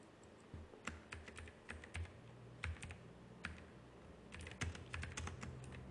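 A file name is typed on a computer keyboard into an export dialog in Fusion 360 design software. Quiet, close keystrokes come in irregular bursts of rapid clicks with short pauses.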